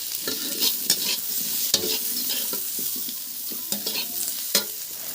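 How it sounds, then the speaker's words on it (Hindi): Potatoes fry in mustard oil in a pan, a steady sizzle broken by frequent spatula scrapes and knocks against the pan, close and moderately loud, with no voices. "और आलू को थोड़ी देर हमने फ्राई किए"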